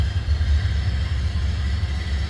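Engine of a 1930 Ford Model A Roadster running just after starting, a close, steady low rumbling idle with a fast, even putter, loud and alone.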